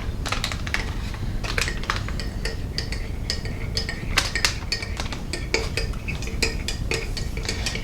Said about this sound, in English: Then you'll have to start to mix it in until it's dissolved.